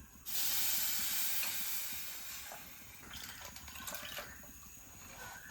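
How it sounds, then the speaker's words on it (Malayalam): Water is poured into a hot pan of fish curry, setting off a loud, rushing sizzle and hiss that fades into softer bubbling and intermittent crackles, with no voices. "നമുക്ക് വെള്ളം ഒഴിച്ച് കൊടുക്കാവേ."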